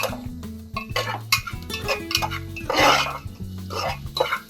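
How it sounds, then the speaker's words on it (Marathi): Garlic and onion sautéing with salt and pepper in a pan, stirred with a utensil: scraping and clinking of the spoon against the pan over a sizzle, with bursts of stirring under a steady low tone. "थोडं परतून घेऊया परत आपण हे।"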